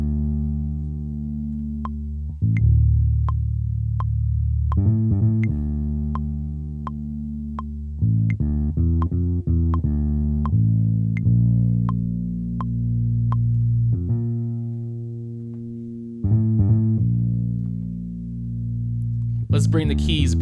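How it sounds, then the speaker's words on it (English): Sampled bass from Native Instruments Kontakt 5 plays a riff of deep, sustained notes that change pitch in a repeating pattern, with sharp percussive ticks and a short busier section at the end. "So, bass sounds like this."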